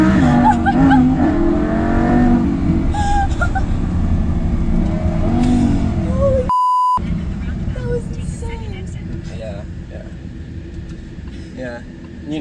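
A Lamborghini heard from inside the cabin, its engine roaring loudly and continuously as it accelerates hard, with rising revs and a brief beep partway through while people talk over it.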